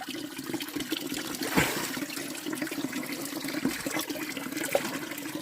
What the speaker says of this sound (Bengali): এরকম পানি সব সময় পড়ে